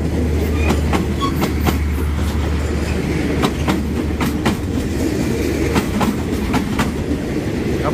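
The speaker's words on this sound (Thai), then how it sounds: "ขบวนรถเร็วที่ 140 เข้าชานชลา 4บางซื่อ" Rapid train No. 140 from Ubon Ratchathani pulling into platform 4 at Bang Sue station in Bangkok: loud continuous rumble with repeated rail-joint clatter and occasional faint squeals, close by and without voices.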